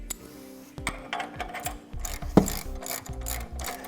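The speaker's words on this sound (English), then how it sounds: "Then we'll tighten that down with the wrench as well." A wrench ratchets an anti-rattle bolt tight on a two-bike hitch rack, giving repeated short clicking pawl bursts in uneven strokes, close up with a sharper metallic clank near the middle.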